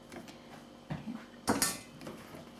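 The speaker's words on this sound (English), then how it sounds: "just keep mixing until all the ingredient is well mixed together, sugar all melted" Spicy Thai pork salad, larb moo, being tossed in a bowl, with soft scraping and a few clinks of a utensil against the bowl, faint and close, with no talking.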